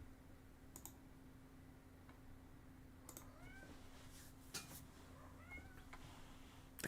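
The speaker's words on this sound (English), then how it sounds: "The cats are yelling at me." Several cats meow in short, separate calls scattered across a quiet indoor room, with faint clicking and a steady low electrical hum underneath.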